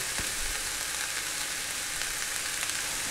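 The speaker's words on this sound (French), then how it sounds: "avant que l'ail ne colore de trop, on va tout de suite ajouter les poireaux. On va aussi ajouter du thym" Leeks and thyme added to garlic sizzling in a hot pan, a steady, fairly quiet crackle of frying with a few soft stirring bumps and no talking.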